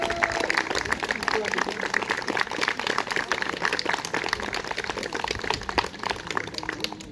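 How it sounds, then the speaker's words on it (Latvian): An audience at a daytime folk musicians' festival concert in Barkava claps with dense, continuous applause, many close hand claps blending into a steady patter that holds throughout. "viņa aplausi Leldai Rudītei"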